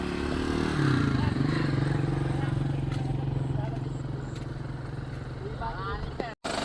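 An M95 tractor engine runs in a farm field, a steady, loud low drone that persists throughout, with a brief rattle near the start.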